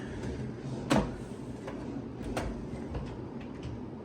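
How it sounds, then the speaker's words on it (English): Drawers in a hotel room are handled, giving a couple of sharp wooden knocks and sliding thumps over a steady room hum, close to the microphone, with faint ticking clicks in between. "Got some drawers right here."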